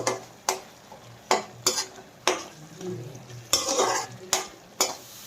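A spoon stirs curry masala with turmeric in a pan for an Andhra country chicken curry, giving sharp repeated scrapes and knocks over a soft sizzle.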